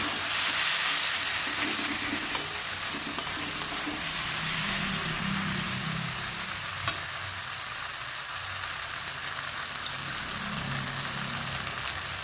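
Potatoes fry in oil in a pan for a Bengali prawn curry, giving a steady close sizzle and hiss throughout with faint stirring scrapes and an occasional click, no voices.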